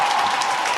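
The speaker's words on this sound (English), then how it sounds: "Please, one more round of applause." A short burst of audience applause, dense clapping from a crowd heard for under a second.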